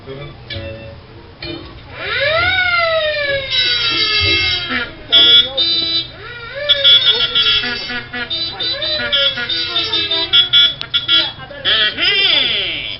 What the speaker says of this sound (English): Didn't figure on my setting an alarm, did you?